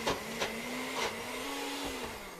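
A NutriBullet blender's steady motor whirs with a low hum, punctuated by a few rhythmic swishing bursts as it keeps running.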